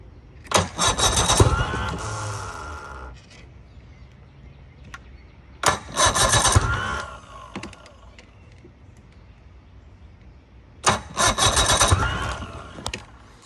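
A 1985 Evinrude outboard motor is cranked three times without catching. Each attempt is a loud, sputtering starter grind of about two seconds, separated by quiet pauses.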